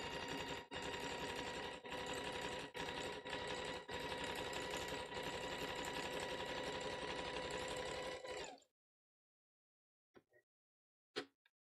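A sewing machine runs a wide zigzag stitch, length 2 and width 5, on a big basket wall in a steady loud mechanical chatter for about eight seconds with a few brief pauses, then stops, leaving near silence and a couple of faint clicks.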